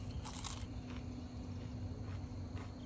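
A bite into a crunchy fried onion ring gives a crisp crackle near the start, followed by softer crunching chews at close range against a noisy background.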